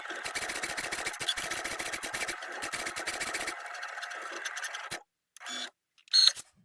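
An electronic cutting machine slicing through felt hums and whirs steadily for several seconds nearby, then stops, leaving only a couple of short mechanical bursts.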